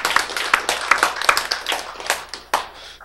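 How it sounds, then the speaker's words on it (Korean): A small church audience breaks into brief clapping, a few scattered sharp claps spread unevenly over a few seconds, close and moderately loud, with no voices. "박수!"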